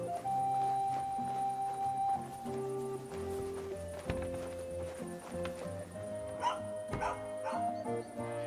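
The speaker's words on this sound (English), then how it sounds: "You have a kind master, eh, Mutt? You silly mutt" In the video game Kingdom Come: Deliverance II, a dog gives short barks and whimpers over a tonal music bed, with horse hooves clopping nearby in a medieval setting.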